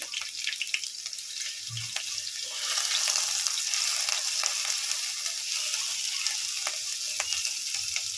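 Chopped green chillies frying in a pan for egg chops, a soft continuous sizzle with light stirring clicks, the hiss swelling a little partway through and holding steady.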